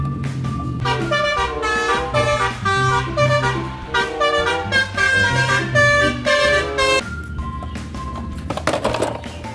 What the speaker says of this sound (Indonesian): Ada bis telolet.